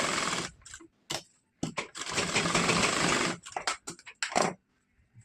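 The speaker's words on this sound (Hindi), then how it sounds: "इसके बाद हमें सिलाई लगानी है।" Domestic sewing machine stitching a princess-cut blouse, running in several short bursts of rapid whirring stitches separated by silent pauses, close and clear with no talking.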